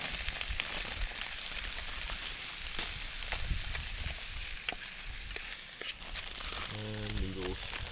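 Vegetables frying in a pan on a camp stove while winter camping, a steady close sizzle throughout with faint background noise and a brief voice near the end.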